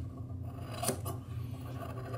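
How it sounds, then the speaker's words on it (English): Scissors snip straight across sheepskin shearling leather while making mittens, a close, quiet crunching cut with one sharper snip near the middle, no talking. "So I usually just use scissors,"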